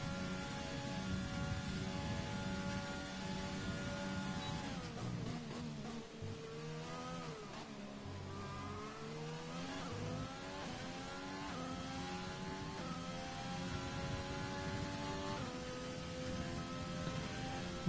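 A racing car engine in a racing video game howls through a fast lap on soft tyres, a continuous close roar with pitch swooping down under braking and climbing again through the gears.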